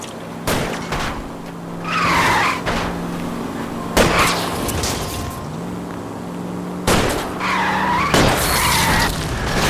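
A car chase in the video game L.A. Noire, with revving engines, repeated loud ramming impacts and long tire squeals and skids, close and intense, with brief voices.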